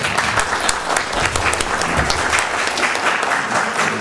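Steady, dense applause fills a town council session hall in Kłobuck, a roomful of clapping hands sustained and even for the full few seconds with no voices rising above it.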